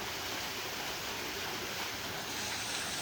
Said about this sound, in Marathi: इकडे झरण्याचं पाणी येते फुल.